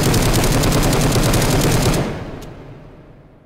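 A continuous burst of loud, rapid automatic gunfire from a weapon in the VR shooting game Hot Dogs, Horseshoes & Hand Grenades lasts about two seconds, then cuts off and leaves a fading echo.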